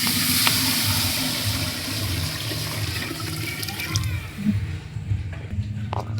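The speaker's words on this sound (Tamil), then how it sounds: "அடுத்து கரைச்ச புளித்தண்ணி ஊற்றிக்கலாம்." Dissolved tamarind water pours into a cooking pan for tamarind rice, a steady splashing gush close up that tapers off toward the end.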